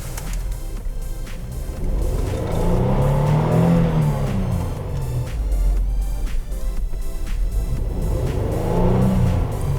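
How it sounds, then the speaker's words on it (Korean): A Kia Opirus GH330 Prestige V6 sedan engine revs up and eases back down smoothly in two broad swells, a steady close hum under a continuous low drone. "RPM 오르고 내리고"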